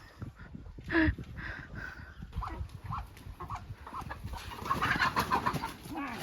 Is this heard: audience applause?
no